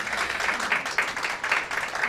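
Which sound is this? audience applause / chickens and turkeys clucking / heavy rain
audience applause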